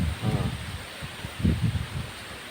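Strong wind gusting through an oil palm plantation, the fronds rustling and thrashing in two louder bursts over a constant breezy hiss.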